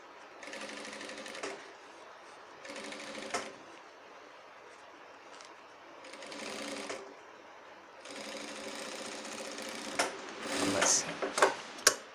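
Shirt fabric being stitched on a sewing machine in bursts of rapid mechanical whirring, several separate runs of a second or two each, close and fairly loud, with a few sharper clicks and knocks near the end.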